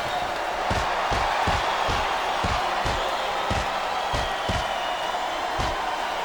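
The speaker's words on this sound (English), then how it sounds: "Sounds like this crowd's got something on their minds, King." A dense arena crowd in the wrestling video game SmackDown vs. Raw 2008 roars steadily while sharp, regular thumps strike through it about twice a second.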